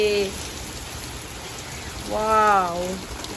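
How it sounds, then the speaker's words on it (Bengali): Heavy rain pours down in a steady, dense hiss that runs without a break, with a brief voice at the start and another around the middle. "অনেক বৃষ্টি হচ্ছে ঝিমঝিমিয়ে"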